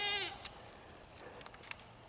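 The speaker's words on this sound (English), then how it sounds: "Those silly goats." A goat lets out one loud, wavering bleat at the start, and it fades quickly. Faint scattered clicks and rustles follow.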